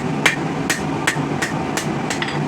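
A blacksmith hammers hot steel bar on an anvil to forge a slight taper, six or seven sharp ringing blows at an even, unhurried pace, close and clear with no talk.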